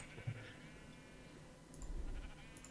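Sheep bleating in the Minecraft video game, two faint, short bleats against a low background hum with no talk.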